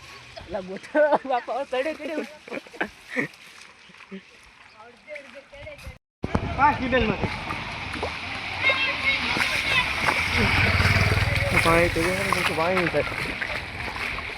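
Flood water from heavy rain rushes and splashes continuously across a road, growing louder after a brief pause, while people talk over the churning flow.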